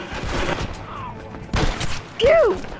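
Gunfire in the Western game Red Dead Redemption: a few sharp shots scattered across a short stretch, with a player's excited voice and a rising whistle-like game sound mixed in.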